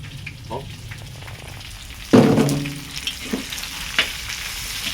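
Bitter gourd (fu gua) hits a hot pan for stir-frying, bursting into a loud sizzle partway through that settles into a steady crackle, with a few light clinks of stirring, no talk.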